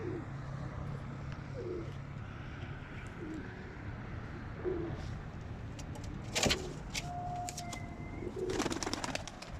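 Released pigeons return and coo in soft repeated low phrases, with scattered chirps and brief clicks or flutters later on, against a quiet outdoor background with faint traffic.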